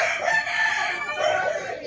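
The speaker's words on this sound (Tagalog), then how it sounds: "Ang daming manok dito, guys." Roosters crowing among many chickens on a gamefowl farm, a clear nearby cock-a-doodle-doo over a background of other birds clucking and calling, with no speech.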